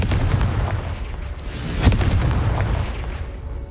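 Spell blasts from the Confringo spell in the Hogwarts Legacy video game smash blocks, giving heavy, rumbling booms and crackling bursts with one sharper impact near the middle, loud and continuous throughout.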